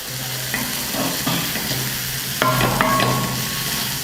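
Onions and tomatoes softening in a pan with light salt for a village-style crushed masala fish fry, a close steady sizzle broken by scattered spoon clinks and stirring scrapes, louder near the end.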